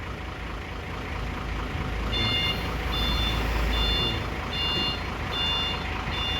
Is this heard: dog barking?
no